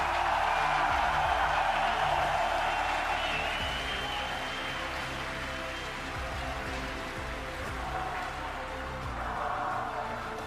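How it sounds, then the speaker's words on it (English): Large arena crowd at the 2019 esports World Championship quarterfinals in Madrid, a dense roar of cheering and clapping sustained throughout, loud and enveloping. "You can hear that crowd in Spain."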